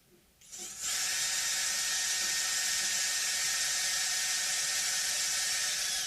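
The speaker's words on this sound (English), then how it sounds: "if I use the same diameter drill bit with a hand drill, I can just carefully drill it" A hand drill boring a hole for a guitar pickup modification, starting with a quiet rise and then settling into a loud, steady, high whir that runs continuously at close range.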